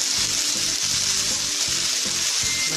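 Chicken meat frying in a karahi, a loud, steady close-up sizzle with faint rhythmic scraping of stirring underneath and no voices.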